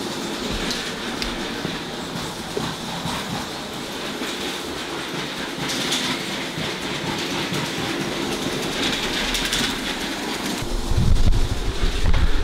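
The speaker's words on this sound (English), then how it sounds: "I'm gonna run the train for a few rounds" A vintage Lego train runs around its track layout, giving a continuous close rolling clatter and whir with faint rhythmic clicks, growing louder and deeper near the end.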